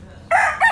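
A Tagalog gamefowl rooster lets out a short, loud, close crow in two quick bursts, with nothing else heard.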